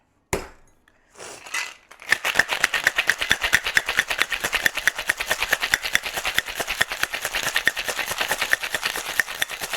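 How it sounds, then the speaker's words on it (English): After a few rattles, a metal cocktail shaker tin packed with ice is shaken hard, producing a fast, steady, loud chunking rhythm of ice striking metal that continues for about eight seconds, close up with no voices. "we're going to shake for about 10 to 15 seconds or until it's ice cold in your hand"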